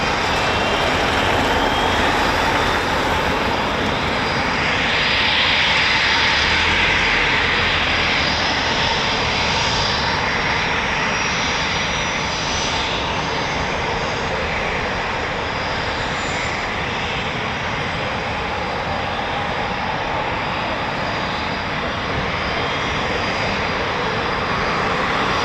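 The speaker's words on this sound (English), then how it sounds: "Nice, typical Eurofighter Typhoon sound there of those Rolls-Royce engines." A Eurofighter Typhoon FGR4 with Rolls-Royce engines roars loudly and continuously during RAF training flights, a sustained jet rumble that swells slightly and then holds steady for the whole stretch, with no talk.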